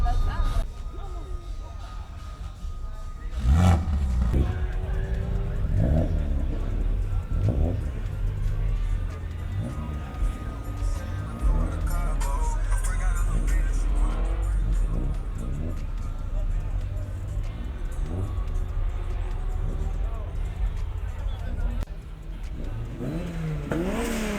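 A sports car engine revs repeatedly at a BMW car festival, pitch rising and falling in bursts, loud and close, with people talking over it.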